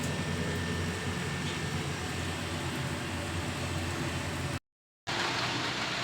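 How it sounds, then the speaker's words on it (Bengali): Heavy rain pours steadily under dark clouds, a dense, even roar of falling water that continues unbroken apart from one brief cut to silence near the end. "সেই থেকে বৃষ্টি পড়েই যাচ্ছে পড়েই যাচ্ছে কমার কোনো সিন নেই"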